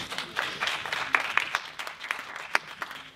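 Scattered, fairly light clapping from a small group, with irregular sharp claps rising above a soft patter.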